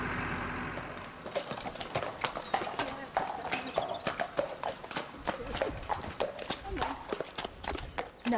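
Horses' hooves clip-clop on a hard floor inside a stable, a steady run of sharp, close knocks with an occasional soft whinny. Speech and light background noise continue underneath.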